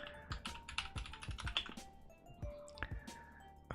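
Close, quiet clatter of a computer keyboard, with uneven keystrokes and a few sharper key hits, over a faint constant background tone.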